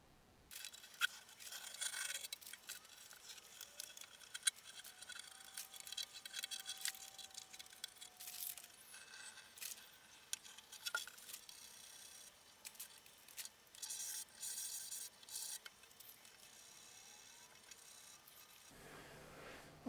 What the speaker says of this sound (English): I'm sanding off the very edge of the shellac where it butted up against the masking tape